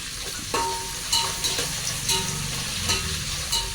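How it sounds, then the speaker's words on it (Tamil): Sliced onions sautéing in oil in a pan for beef biryani, a steady close sizzle with periodic scraping stirs of a spoon against the pan. "நல்லா வெங்காயம் வந்து பொன்னிறமாக வதக்கிடுங்க"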